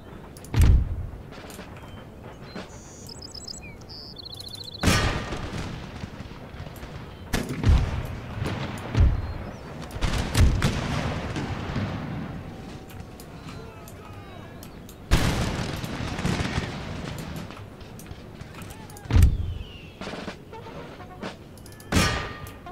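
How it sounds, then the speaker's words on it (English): Musket volleys and artillery fire in Empire: Total War crack and boom in heavy bursts spread across the battle, some loud and near, others rolling and distant, with commanders shouting and talking over the din. "Open fire."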